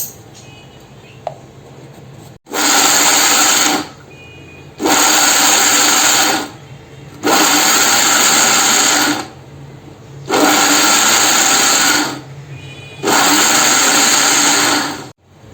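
A kitchen mixer grinder blends a coarse Malvani coconut and garlic chutney in five loud bursts of roughly two seconds each, switched on and off with short quiet gaps between pulses.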